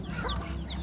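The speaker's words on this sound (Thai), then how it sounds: "ไล่ไก่" Chickens cluck and squawk close by in a short, busy burst at a rural Thai home.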